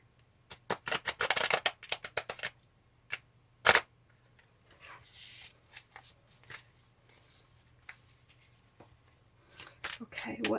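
Tarot cards being shuffled by hand in a leg shuffle, quick papery riffles and slaps in bursts near the microphone, with gaps and a few louder taps between them.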